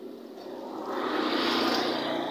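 An automatic washing machine fills with water for its rinse cycle, a steady, fairly loud rushing hiss that swells slightly partway through and then holds level.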